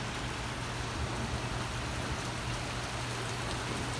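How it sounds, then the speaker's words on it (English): Heavy rain pours steadily during an extreme thunderstorm over Bolivar, West Virginia, a dense, even hiss of big raindrops drumming close by with no pauses. "This big raindrop."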